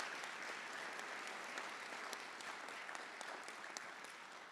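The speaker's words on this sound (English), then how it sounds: "So let's give them a big applause for giving a big platform." Crowd at a medical school commencement applauding, a broad, even roar of many clapping hands sustained throughout, somewhat distant and without talk.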